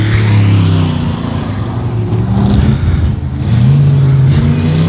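Race cars at 281 Speedway roar loudly close by, their engines droning and shifting pitch as they rev and pass, with no talking.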